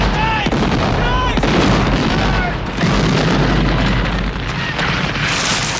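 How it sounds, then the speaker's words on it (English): Continuous heavy booming and rumbling explosions, loud and dense, with blasts and crackling debris layered throughout and no pause, from the 1989 film The Adventures of Baron Munchausen, as a late 18th-century city is attacked by a Turkish army. "The film kicks off with a bunch of explosions"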